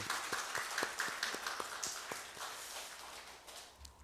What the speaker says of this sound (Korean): 우리 하나님께 우리 감사의 박수 한번 드렸으면 좋겠습니다